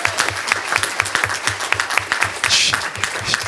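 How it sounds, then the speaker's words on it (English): An audience gives Erica, the artist who makes dioramas, a warm round of applause: dense, steady clapping from a small crowd close by, with no talk over it. "So please have a warm round of applause for her."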